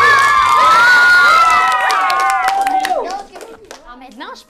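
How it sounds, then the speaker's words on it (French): Schoolchildren at an environmental education event cheer, shout and clap for two teams, a loud burst of excited young voices with applause that fades out over a few seconds. "Et j'aimerais qu'on applaudisse les 2 équipes qui ont super bien."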